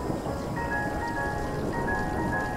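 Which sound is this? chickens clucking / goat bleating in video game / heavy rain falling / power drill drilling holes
heavy rain falling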